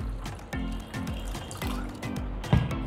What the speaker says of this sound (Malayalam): ഞാനിതിലേക്ക് സ്വല്പം വെള്ളം ഒഴിച്ച് കഴുകാൻ പോവാണ്